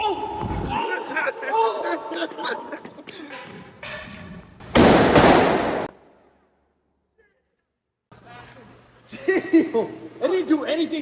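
Fourth of July fireworks go off outdoors: one loud, rushing burst of a few seconds, then near silence, while people talk and exclaim before and after it.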